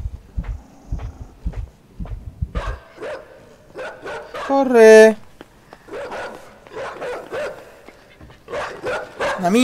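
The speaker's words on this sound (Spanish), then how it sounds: "Hay un perro ahí, ¿eh?" A dog barks in the dark side-scrolling video game Inside, a few short barks and yips scattered between stretches of talk, with a sharp rising electronic burst in the middle.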